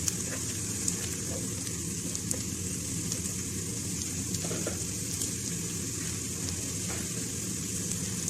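Finely chopped garlic fries in a pan for chicken macaroni, giving a soft, continuous sizzle with faint crackles under a steady background hum.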